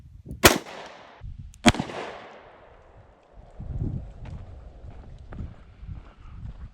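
Taurus Public Defender Poly revolver loaded with triple-aught buckshot fired at 15 yards, two sharp, loud reports about a second apart, each trailing into a brief echo, followed by faint handling noises.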